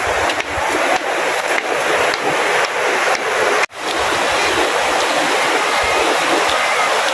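A river at Liliw, Laguna rushes in a loud, broadband wash of flowing water, steady and close with a brief cut partway through.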